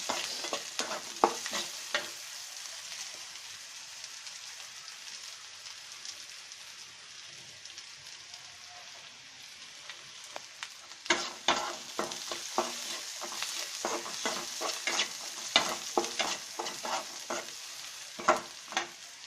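Onion frying in a pan for dried fish vorta sizzles softly and steadily up close, with bursts of rapid scraping stir strokes at the start and again through the latter half.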